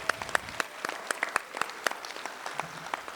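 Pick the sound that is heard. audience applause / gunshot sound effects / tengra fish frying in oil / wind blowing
audience applause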